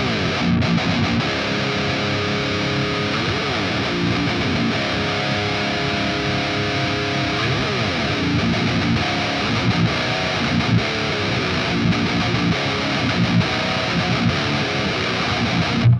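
Distorted electric guitar miked with the MIKKO2 plugin's mic, placed between the speaker cap edge and dead center, plays a steady, loud, dense riff throughout with sustained chords and sliding bends.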